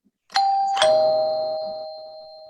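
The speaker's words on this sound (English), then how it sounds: "The doorbell rings." A two-tone doorbell chimes once, ding then dong, ringing out clearly and decaying slowly in a quiet room.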